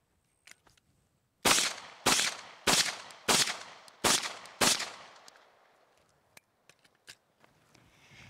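Pistol shots fired in a live shooting demonstration for USPSA-style practice: six sharp, loud reports in a quick steady rhythm, each with a short ringing tail, followed by a few faint clicks and softer knocks.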